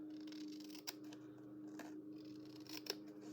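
Scissors trim a paper index card in a few quiet, close snips spaced apart over a faint steady hum.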